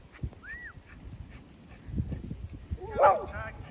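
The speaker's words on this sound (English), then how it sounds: "Oh, hold on, we've got dogs." Several small dogs bark and yip in a short excited burst, with a high whimpering whine rising near the end, heard outdoors under intermittent talking and background noise.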